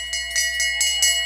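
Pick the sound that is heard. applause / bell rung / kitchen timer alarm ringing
bell rung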